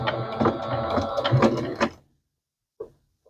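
A sewing machine runs a zigzag stitch across black and red fabric on a quilt being repaired, whirring steadily with a rhythmic mechanical chatter for about two seconds, then stopping, followed by a faint click.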